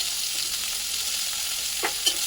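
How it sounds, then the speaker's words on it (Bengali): Chopped onions tossed into hot oil in a kadai for a crab and taro-stolon chorchori, giving a steady, moderately loud sizzle with faint stirring scrapes and a couple of brief sharper crackles near the end. "তেলটা গরম হয়ে গেছে, ওর মধ্যে পেঁয়াজ কুচি দিয়ে"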